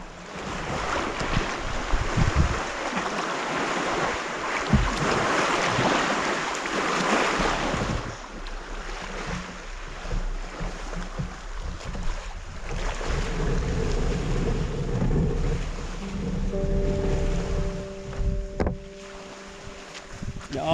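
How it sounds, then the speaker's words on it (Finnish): Waves on Lake Puula wash over a solo touring kayak, a steady rushing, splashing wash mixed with gusty wind buffeting close by, with no talk. "ne aallot meni tosta kajakin yli"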